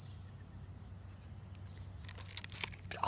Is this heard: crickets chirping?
yes